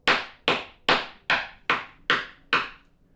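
A dense MRE nougat bar is knocked hard against a surface seven times in a steady rhythm, each a sharp, close, wooden-sounding thwack that fades quickly.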